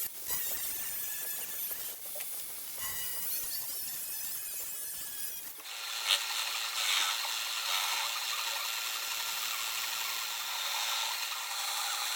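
Workshop cutting and machining of a metal strip for a 1922 Ner-A-Car vintage motorcycle restoration: rhythmic rasping and rubbing strokes at first, then a steady, higher-pitched machining whine that continues to the end.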